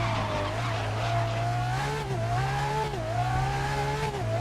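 Race cars in GRID 2019, a video game, slide and drift with sustained tire squeal over a droning, shifting engine note, loud and continuous without talk.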